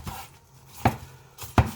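Two crisp knife chops through vegetables on a cutting board, spaced apart after a faint opening tap, close and clear with no talking.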